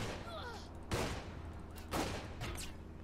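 Scattered bursts of gunfire in the game Saints Row The Third, fairly quiet, with two or three sharp volleys roughly a second apart over a low background hum.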